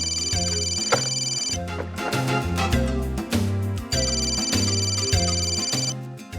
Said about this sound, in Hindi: बार बार फोन आ रहा है, कोई इंपॉर्टेंट कॉल होगा विक्रम